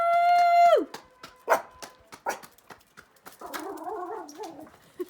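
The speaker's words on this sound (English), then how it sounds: "Are you barking for the NHS?" A dog barks and whimpers in short, loud bursts at home, with a long whine at the start and a warbling yelp near the end, no talk over it.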